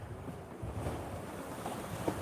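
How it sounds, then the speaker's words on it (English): Steady wind rushing over a boat at sea at sunrise, a soft broadband roar with low buffeting and no speech, fairly quiet throughout. "Let me know if it's too windy, guys."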